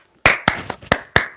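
Five sharp hand claps in a quick, slightly uneven rhythm, close and loud, with no voices.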